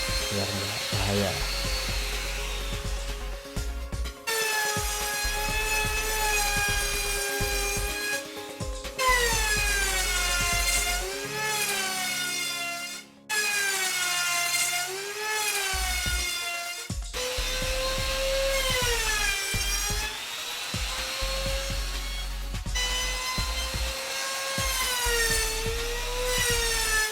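A trimmer router smooths the corners of HPL plywood for a children's wooden slide, whining at a high pitch in several long passes broken by short pauses, with background music running throughout.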